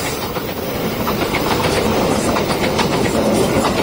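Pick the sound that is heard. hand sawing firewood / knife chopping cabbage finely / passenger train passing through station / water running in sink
passenger train passing through station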